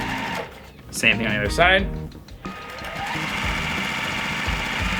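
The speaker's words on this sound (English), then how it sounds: "I'm gonna sew a 1/4 inch seam and get going here." A sewing machine stitches quilt pieces with a 1/4 inch seam, a steady close mechanical whir that carries under a person's brief speech and continues alone afterward.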